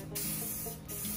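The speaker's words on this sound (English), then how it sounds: "some clear Crayon gloss spray, just a few light coats" Clear Krylon-style gloss spray paint hisses from an aerosol can onto sealed wood for a crayon box wall clock, two close bursts of spraying with a brief pause between them.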